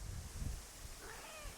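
A cat in a Swedish garden lets out a faint, short meow with rising and falling pitch toward the end, after some low thumping and rustling at the start.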